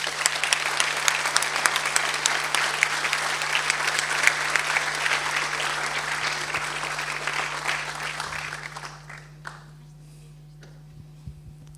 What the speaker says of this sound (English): Please give a warm applause.